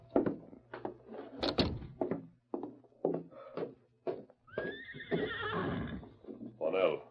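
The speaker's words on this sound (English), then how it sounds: "There's your horse, all saddled and waiting." A horse neighs in a radio drama, a long shrill whinny standing out near the end after a run of knocks and thunks, with people talking between the sounds.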